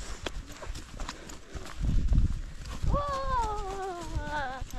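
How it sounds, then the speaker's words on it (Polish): Ponies led by children at a birthday pony-ride outing clip-clop along at a walking pace, hooves close and uneven, while a high drawn-out voice rises partway through. "Dzieci prowadzą koniki."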